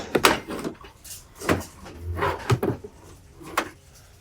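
The small drawer of an antique clock being slid open and shut, soft wooden scrapes and light knocks coming in a few separate short bursts, close by and fairly quiet, with no talking.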